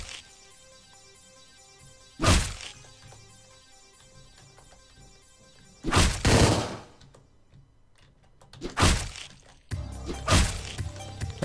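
Gunfire in the video game Hotline Miami 2: four loud, sharp bursts of shots spaced a few seconds apart over quieter background game music, the last burst more sustained.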